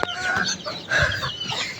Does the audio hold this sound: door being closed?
no